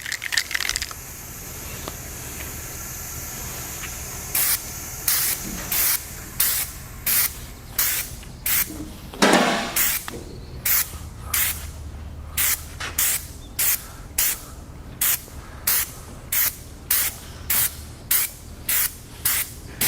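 Aerosol can spraying clear coat over Raptor truck bed liner: a long hiss first, then a quick run of short spray bursts in a regular rhythm, close and loud, with a rattle or knock partway through.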